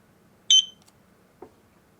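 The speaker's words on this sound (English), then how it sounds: "Press the sync button until you hear the beep." A Eufy HomeBase gives a single short, high electronic beep when the camera sync button is pressed. A faint click follows about a second later in an otherwise quiet room.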